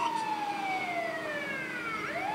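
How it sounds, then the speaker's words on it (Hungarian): A Hungarian ambulance siren sounds in the video game GTA 5, a wailing tone that sweeps down and then climbs again. It is loud and continuous with no talking over it. "Ott vannak. Magyar mentő."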